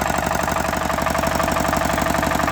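An old Chinese HT 135E tractor engine runs steadily at close range, a loud, continuous diesel chug with a regular knocking pulse and no talk over it.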